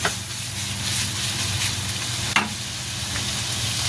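Vegetables and meat sizzle steadily in a pan as lumpia filling is fried, a continuous close hiss with a brief clink of a utensil partway through.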